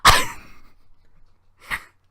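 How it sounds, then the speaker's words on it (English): A cat throwing up a hairball at home: one loud, harsh retching burst up close that fades over about half a second, followed by a shorter, softer heave after a pause. "that was the sound of a cat throwing up a hairball"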